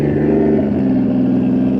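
Porsche 911 cars driving past at Daikoku parking area, a loud, close engine drone with a low rumble that shifts in pitch as the cars pass, continuous for the whole stretch with no talking.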